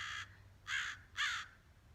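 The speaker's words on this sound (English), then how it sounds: "so many of these birds, they call to each other back and forth" Crows caw three times in a row, harsh evenly spaced calls with short gaps between them, fairly close and clear over a quiet background.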